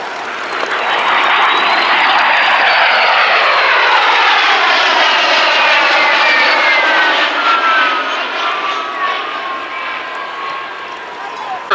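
VK-1 jet-powered aircraft passing in echelon formation at an air show, a loud sustained jet roar that rises as they approach, with a sweeping pitch shift as they go by, then slowly fades.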